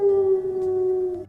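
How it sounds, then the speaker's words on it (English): A werewolf in The Sims 4 lets out one long, sustained howl, loud and close, that holds a steady pitch and then trails off. "the howl's coming back at us though, right?"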